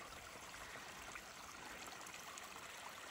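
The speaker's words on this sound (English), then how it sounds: "This water is running in here and down into the creek below" Storm runoff from a reservoir overflow pouring into a creek at an Oregon BLM campground, a soft, continuous rushing and trickling of water, faint and steady with no speech.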